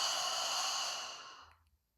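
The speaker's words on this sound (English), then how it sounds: "I want your exhalation to be like a real sigh of relief" A long, relaxed exhale through the mouth, a sigh of relief that starts full and breathy near the microphone and fades smoothly to silence.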